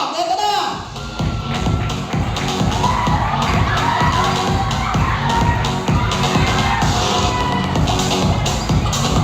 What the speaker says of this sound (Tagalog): May pumalakpak, may sumigaw